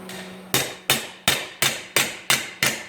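A hammer strikes sheet metal held on a homemade T-dolly clamped in a vise while repairing a rusty cross member, seven sharp metallic blows at a steady, unhurried rhythm, close and clear.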